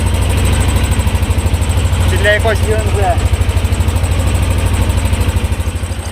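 A T-25 tractor pulling a Czech Agrozet SA2 074 potato planter chugs loudly at a steady, pulsing idle-like beat throughout, with someone talking briefly over it.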